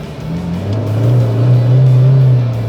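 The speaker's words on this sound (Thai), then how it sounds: "เดี๋ยวผมจะลองเยียบคันเร่งดู นะครับคันเร่งเนี่ยไวขึ้นชัดเจนนะครับ" A car fitted with a TORQUE AIR electronic throttle controller revs as the accelerator is pressed, its engine note a loud, close, steady drone that rises and holds through the clip, with no talking.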